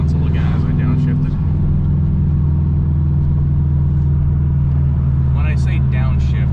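A car engine drones loud and steady from inside the cabin while downshifting, a low rumbling hum with a voice talking over it at the start and end.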